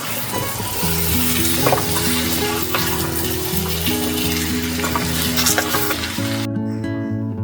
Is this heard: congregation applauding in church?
no